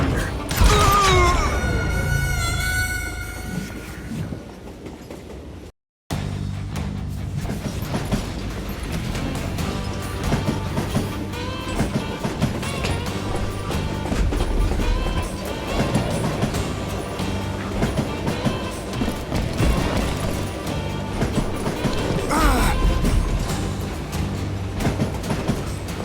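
A train in the video game Call of Juarez Gunslinger rattles and creaks along the rails in a dense, continuous clatter with metallic squeals and knocks, briefly cut by a moment of silence early on.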